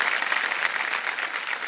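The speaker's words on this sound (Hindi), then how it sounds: "जोरदार तालियां बज जाए" A short burst of dense applause from a game show studio audience, steady and lively throughout, with no talking over it.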